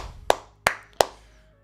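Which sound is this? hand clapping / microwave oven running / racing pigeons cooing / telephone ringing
hand clapping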